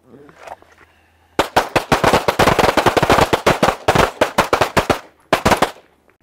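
Handgun shots fired rapidly during a draw-and-fire shooting drill, a dense burst of about fifteen sharp close reports followed by a brief pause and a final pair, loud and dominating after a faint voice at the start.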